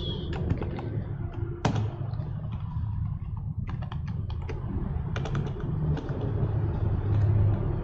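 Computer keyboard typing during PHP code editing, bursts of quick key clicks over a steady low hum, near and fairly clear.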